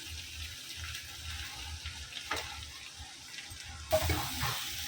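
Ingredients stirred into goat blood fry in a pan with green chilli paste, giving a steady wet sizzle and scraping stir, with a louder clattering stir near the end and no talking.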